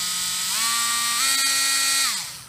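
Ridgid Gen5x cordless oscillating multi-tool running alone at variable speed, a steady buzzing whine that shifts pitch up and down as the speed changes, then winds down at the end.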